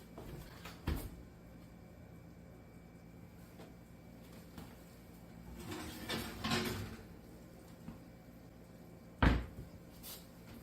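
A kitchen oven door opens with a short thud and clatter as a baked Mexican casserole is taken out, followed by softer rattles and a second louder knock in a quiet room.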